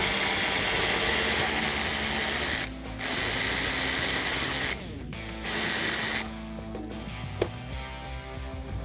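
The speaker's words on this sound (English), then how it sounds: "Now you can grab your 10mm socket and remove the bolt that's up top." A 10mm socket on a ratchet turns a bolt out of a Jeep Wrangler JL during a headlight swap, giving loud, fast, continuous clicking in long runs with brief pauses, close up and alone.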